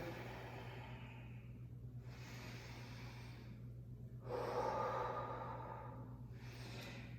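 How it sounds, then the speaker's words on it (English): Deep, slow breaths during a yoga session, with several long airy inhales and exhales in steady succession and one fuller exhale near the middle, close and clear over a constant low hum. "A couple big deep breaths here."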